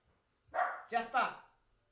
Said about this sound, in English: that's my little poodle going off in the background